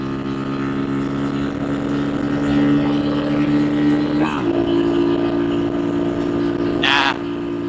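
RPS Racer Nibbi PE26 boat engine held at wide open throttle, a loud steady buzzing drone with strong harmonics that dips briefly in pitch midway, then settles again, with a short burst of noise near the end.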